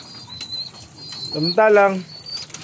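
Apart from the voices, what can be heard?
pigeons cooing and flapping wings in loft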